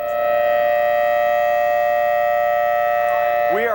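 A loud, steady, continuous all-clear air raid siren tone drones without change during the Iraq War, with a short burst of speech at the very end.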